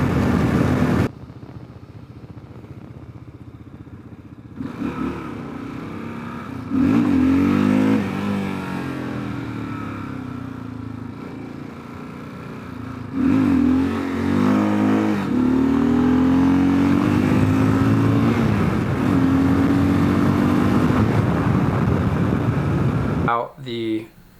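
A 2022 Kawasaki KLR650 adventure motorcycle with a 16-tooth front sprocket cruising at 75 mph, its engine a steady, loud drone under heavy wind rush that swells and eases in long stretches, ending in an abrupt cut.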